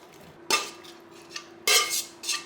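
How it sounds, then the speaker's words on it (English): A utensil scrapes and clinks against a dish as stirred food is moved onto a plate with onions, two sharp contacts followed by softer scraping, fairly close and otherwise quiet. "And now I'm gonna put it on the plate together with the onions"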